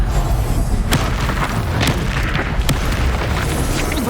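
An avalanche spell in Hogwarts Legacy lands as a loud, sustained low rumble with repeated booming impacts and bursts throughout, dense and close with no talk.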